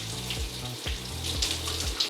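Shower water streams steadily while a man rinses shampoo from his curly hair, a constant hissing spray close by, with a few soft low thumps mixed in.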